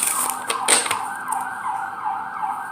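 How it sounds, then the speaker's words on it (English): An emergency vehicle siren wails outside, its rising and falling tone sweeping repeatedly at moderate distance, fairly clear with faint background noise and no talking. "Yeah, see, there's the sirens."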